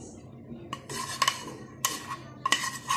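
A utensil stirs a poured coating mixture through fried chicken wings for parmesan wings in a metal bowl, giving repeated scraping, clinking strokes in bursts, close and clear.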